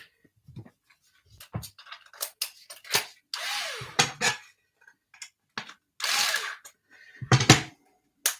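Screws are tightened into the graphite chassis of a Yokomo SO2.0 carpet RC car, producing short, close bursts of clicking and whirring driver sounds separated by brief silences.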